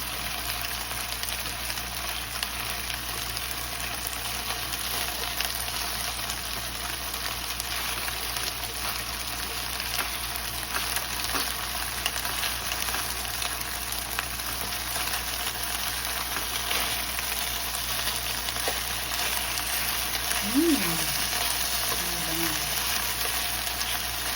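Chicken pieces and cabbage stir-fry in a hot pan with a steady, loud, close sizzle that hardly changes throughout.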